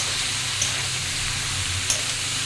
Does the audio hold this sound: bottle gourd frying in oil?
yes